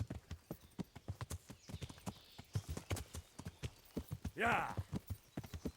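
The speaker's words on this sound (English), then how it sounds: "Pero ya tengo mi caballo, ¿no? ¿No es este mi caballo?" A horse's hooves clip-clop at a steady walking rhythm in the medieval video game Kingdom Come: Deliverance, with a single whinny near the end and a brief spoken word early on.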